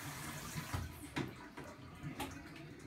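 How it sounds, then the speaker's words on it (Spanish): Bathwater splashing as a small girl and an adult bathe together, a steady watery wash with soft irregular slaps and splashes close by, no talking. "La niña te ducha a ti porque te tira agua salpicándote"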